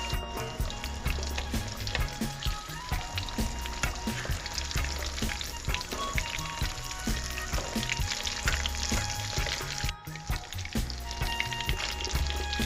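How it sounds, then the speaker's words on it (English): Fish frying in hot oil while fishing at the beach for tacos, a loud, continuous close-up sizzle with dense crackling and popping throughout. "I don't like to get the oil too hot, because especially when you're cooking on like multiple rounds of fish"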